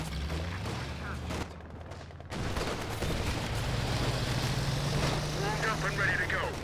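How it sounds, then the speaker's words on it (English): MG34 machine gun in Company of Heroes 2 rattling in steady, dense bursts through a busy battlefield soundscape, almost continuous under a commentator's voice. "And here the MG34 firing away."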